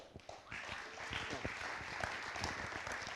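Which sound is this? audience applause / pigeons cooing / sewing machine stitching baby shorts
audience applause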